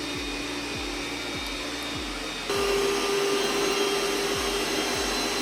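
A Roborock Q Revo Curv robot vacuum runs steadily with a loud, constant whirring hum and a faint tonal whine, its pitch and level stepping up partway through as power increases, with soft repeated ticks underneath and no talking.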